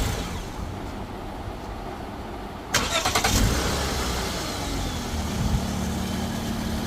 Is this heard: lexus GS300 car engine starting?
yes